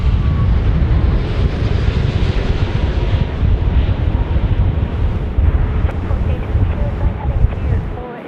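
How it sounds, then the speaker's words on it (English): A Qantas Boeing 787 in special livery lands on runway 25 at Sydney Airport in gusty wind, a loud continuous low roar thick with wind buffeting that holds steady and eases slightly at the end. "Qantas 100, 787 now, dropping in"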